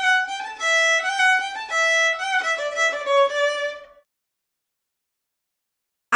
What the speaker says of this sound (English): Irish fiddle